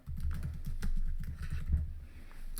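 Computer keyboard typing as a search term is entered into a keyword research tool, a quick run of close, soft key taps with a steady low hum underneath.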